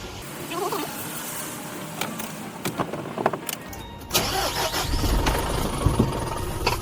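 A car's engine is started after a few faint clicks and rustles, catching abruptly partway through and then settling into a steady, close idle.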